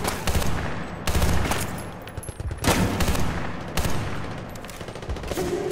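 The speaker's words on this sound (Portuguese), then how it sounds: "os tiros de escopeta estão chegando aqui" Bursts of rapid gunfire and heavy shots crackle in the Battlefield Bad Company 2 campaign, loud and close, with sharp volleys separated by brief lulls.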